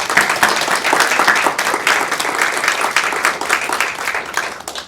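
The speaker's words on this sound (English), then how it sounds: "So please join me in a round of applause for Judge Wallace from his lecture." An audience claps loudly after a law lecture honoring Judge J. Clifford Wallace, with dense, steady applause filling the room throughout and no talking over it.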